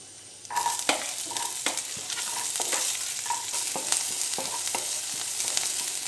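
Chopped onion hits a pan of browning garlic for a vegetable soup, starting a sudden close sizzle that carries on under repeated spoon clinks and scrapes as it is stirred; no voices.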